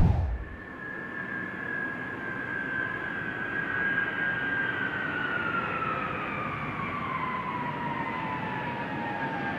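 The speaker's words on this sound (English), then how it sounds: "We're bringing this airplane here." A retiring Air Force cargo airplane flies in toward the Boneyard, a loud, steady engine roar with a high whining tone that slowly falls in pitch as it passes.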